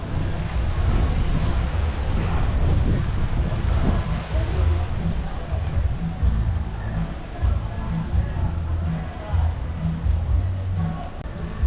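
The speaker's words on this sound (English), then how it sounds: "Ooh, a little wind blowing." Wind gusts across the cruise port at Mahogany Bay, Roatan, Honduras, a constant broadband rush and buffeting against the microphone, loud and close throughout.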